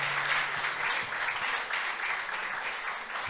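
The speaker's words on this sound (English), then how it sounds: "Let's give him a better round of applause." Seminar audience applauding a CEO, a dense round of clapping from a hall crowd, steady and moderately loud for a few seconds with faint voices underneath.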